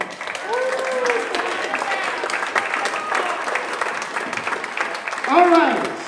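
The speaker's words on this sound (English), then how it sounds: "Come on, give a round of applause." Concert audience at a young people's orchestra concert clapping in a steady wash of applause, with voices and a brief cheer rising near the end.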